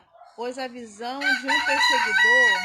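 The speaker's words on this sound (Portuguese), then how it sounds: "Olha o galo cantando" A rooster crows in a long, loud, rising and falling call that lasts for most of the moment, with a person speaking over it.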